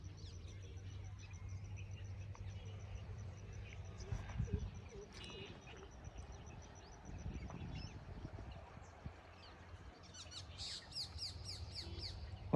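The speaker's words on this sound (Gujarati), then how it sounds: "પક્ષીઓનો અવાજ" Birds chirp around quiet village fields with coriander in white flower, scattered faint calls over low rural background hum, with a brighter burst of chirps near the end.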